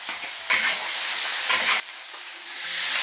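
Pickled cabbage is stir-fried with tomato and scallion in a hot wok, a loud, close sizzle that swells and drops in bursts as the ingredients are tossed and stirred.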